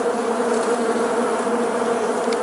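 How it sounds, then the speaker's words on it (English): Loud, dense buzzing of a honey bee swarm, steady and close, with no voices. "No, there was just lots of bees."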